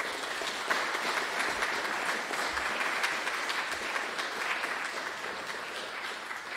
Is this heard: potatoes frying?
no